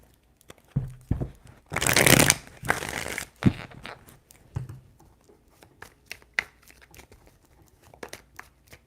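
Tarot cards are shuffled by hand, with two loud bursts of riffling and rustling early on, then scattered lighter taps and shuffles of the deck, close and alone.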